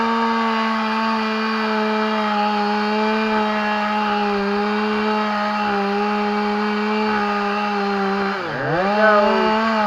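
A chainsaw cuts down a small tree while logs are gathered for a sawmill. The engine holds a steady, loud high whine throughout, then dips and bogs briefly near the end as the cut finishes, with no talking.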